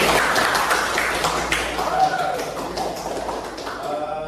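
An audience of students claps at a university lecture, a dense, steady patter of many hands lasting several seconds, with voices mixed in under the clapping.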